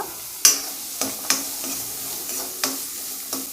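Garlic cloves, skin on, frying in oil in a pan with dried red chillies nearby: a steady close sizzle broken by sharp scraping stir strokes roughly every second.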